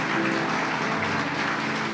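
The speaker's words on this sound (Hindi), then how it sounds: "Give the mighty clap offering to the Lord." A church congregation gives a loud burst of continuous hand clapping, a dense wash of applause filling the short moment.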